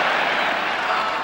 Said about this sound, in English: One roar after the other with this crowd today